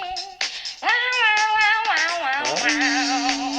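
A toy cat in the Pepi Super Stores game lets out a string of drawn-out, sliding meows, close and clear, with no talking over it.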